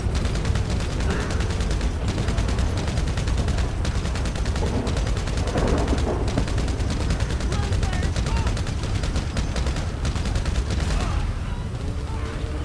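Dense, steady gunfire in GTA Online, rapid shots crackling continuously at high volume with no pauses, a voice faintly underneath at times.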